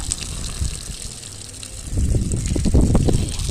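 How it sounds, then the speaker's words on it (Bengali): Water from a pipe soaks a rooftop garden bed of paper and vegetable-peel waste, heard as a close, loud gushing splash that grows heavier and more turbulent in the second half. "জল দিয়ে পাইপ দিয়ে জল দিয়ে পুরো বেডটাকে একদম ভিজিয়ে দিচ্ছি"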